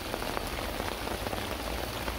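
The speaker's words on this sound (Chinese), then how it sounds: "毛毛雨过了就下了变成大雨。" Heavy rain pours onto a tent on a jungle hiking trip, a steady dense patter with no let-up and no voices.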